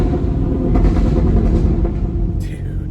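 Deep, continuous exhaust rumble from a Chevrolet C8 Corvette with a Corsa exhaust and no mufflers, steady and heavy throughout, with a faint higher sweep near the end.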